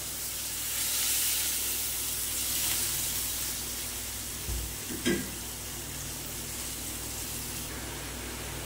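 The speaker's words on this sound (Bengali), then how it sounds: "এইবারে দিয়ে দেবো এই মশলার জলটা, যাতে একটু মশলাটা সেদ্ধ হয়" Spiced water hitting hot oil in a pan while cooking navratan korma: a steady broadband sizzle and simmer runs throughout, with a brief louder bubbling burst near the middle.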